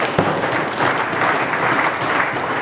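A large crowd at a political rally claps in sustained, dense applause, loud and even throughout, with no clear voices over it.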